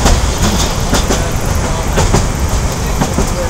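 Steady rumble and rattle of a moving train heard from inside a carriage, with periodic clickety-clack wheel beats over continuous loud noise, passing through wet-season floodplain countryside.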